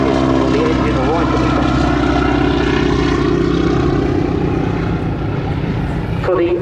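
A propeller-driven aerobatic display plane at a seaside airshow roars past with a loud, sustained droning engine and buzzing propeller tone, while a commentator talks over it.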